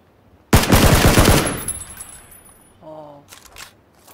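PUBG gunfire, a single loud close burst of rapid automatic shots lasting about a second, then a ringing tail with faint metallic clinks and a short electronic tone.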